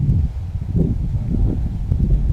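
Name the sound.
strong wind blowing during a hunt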